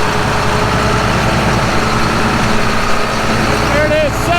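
A combine harvester's loud, steady 700-horsepower diesel engine drones close by with a deep low rumble, holding constant throughout, with a brief rising whine near the end.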